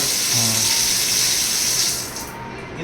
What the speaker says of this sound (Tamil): இது பார்த்தீங்கன்னா ரைன் ஷவர்.